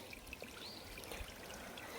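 Water poured over a freshly cast concrete earth beam at a construction site for curing, a steady trickling and splashing flow that runs throughout without any talk.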